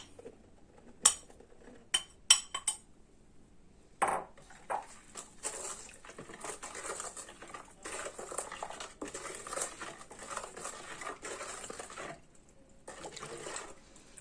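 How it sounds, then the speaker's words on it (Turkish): Powdered slaked lime is stirred into about five litres of water in a large bowl. A few sharp clinks open, then a continuous swishing, sloshing stir runs steady and fairly close, with brief pauses. "Kireç ile suyu iyice karıştırıyoruz."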